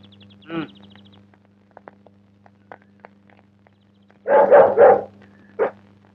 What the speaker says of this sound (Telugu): లోపల ఏదో కుక్క